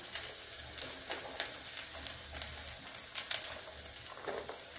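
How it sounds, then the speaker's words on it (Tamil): Grated coconut frying in oil in a pan with softened onion and coriander for a brinjal tamarind gravy, giving a steady soft sizzle with faint crackles and occasional stirring scrapes, close and fairly quiet throughout. "இப்போ தேங்காய் போட்டுக்கலாம்."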